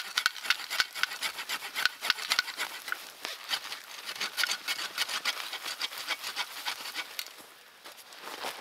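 Hand saw cutting through sappy green wood, a steady rasping back-and-forth scrape with rhythmic strokes, close and continuous with no talking.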